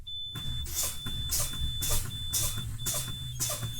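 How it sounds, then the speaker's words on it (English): Steady high-pitched electronic warning buzzer in a 2019 truck cab signaling low air pressure, sounding continuously while rhythmic hissing bursts of air pump at regular intervals beneath it and an engine idles low in the background. "My warning lights and buzzer come on at 60 psi"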